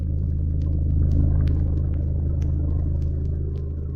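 A vehicle drives away with a deep, steady engine rumble that holds close and heavy, then eases slightly toward the end.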